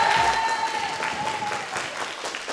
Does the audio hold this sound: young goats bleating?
no